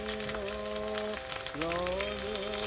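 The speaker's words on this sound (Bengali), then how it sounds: "বাটাটা এবার ভালো করে একটু কষিয়ে নেব" Ground onion and ginger paste sautéing in a pan, a steady soft sizzle running throughout beneath tonal background music.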